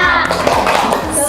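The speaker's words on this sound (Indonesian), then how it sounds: "Kita tepuk semangat dulu. 1 kali tepuk semangat." A classroom of children claps a quick rhythmic 'tepuk semangat' pattern, with sharp close taps mixed with young voices chanting along.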